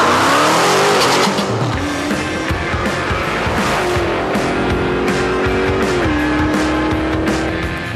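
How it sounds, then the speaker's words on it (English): A loud run of car exhaust sounds strung together: racing engines rev and accelerate with rising and falling pitch, tires squeal, and cars skid, continuous and close throughout. "A little exhaust mashup this morning, huh?"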